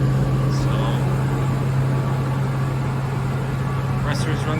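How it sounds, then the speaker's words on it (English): A KAESER screw compressor runs and builds pressure with a loud, steady, unbroken mechanical drone, and someone talks over it. "Compressor is running fine, he's building pressure very well."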